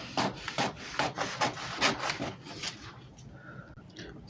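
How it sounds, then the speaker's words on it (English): Scissors cut a fabric back yoke for a vintage basque dress, a run of short crisp snipping and rustling strokes close by, about eight cuts in quick rhythm, then quieter handling. "I'm going to cut out my yoke for the back"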